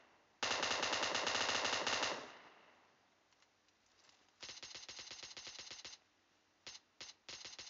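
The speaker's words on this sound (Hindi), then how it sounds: "एवं गोलियां चला रहे हैं।" Loud bursts of rapid automatic gunfire in PUBG Mobile, a long burst, then a pause, then another rapid stretch and a few short volleys, with no talking.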